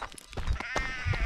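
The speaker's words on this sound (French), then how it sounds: "C'est le peloton de moutons." A flock of sheep bleats on a mountain trail during an ultra trail race, with several overlapping wavering calls in quick succession, fairly close and loud against outdoor background noise.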